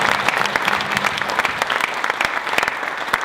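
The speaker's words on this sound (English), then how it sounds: "I think it'd be awesome if we give a huge round of applause to our three speakers tonight for telling their story." Sustained applause from an audience honoring three speakers at an evening fireside chat, a dense steady patter of many hands clapping without talk.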